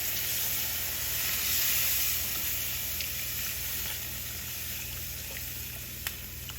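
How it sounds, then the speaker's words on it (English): Water is stirred into simmering Southern smothered chicken gravy in a pan with frying grease, a steady close sizzle and bubbling hiss continuing without pause, with no talking. "You want to add a little bit of water at a time so that you can mix it in, stir it in so that you don't have any lumps in your gravy."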